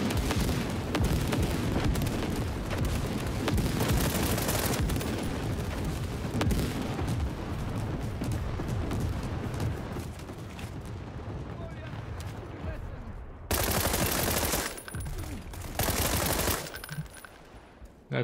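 Dense bombing and gunfire in the video game World War 3 form a sustained roar of blasts and rapid shots, with a brief lull and then renewed bursts toward the end. A voice talks over parts of it.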